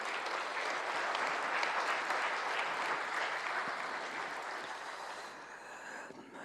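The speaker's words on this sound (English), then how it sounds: "please, another round of applause" Seated guests at a diplomatic New Year reception with the President of Tanzania give a sustained round of applause, a thick, even clatter of many hands that gradually thins and fades toward the end.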